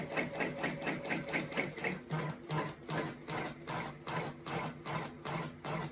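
An embroidery machine sews a tack-down stitch on a baby blanket with black thread, giving a steady, rhythmic mechanical clatter of quick repeated needle strokes close by, with no talking.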